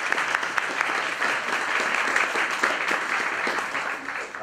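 Audience applauding the EU ambassador to Namibia at an evening talk on the refugee crisis, a loud dense roll of clapping that holds evenly and eases slightly at the end.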